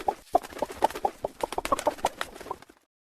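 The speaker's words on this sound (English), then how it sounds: "Hen" A hen clucks in a quick run of short, bright clucks close to the listener, the rhythm busy and irregular for about two and a half seconds before stopping, with no talk.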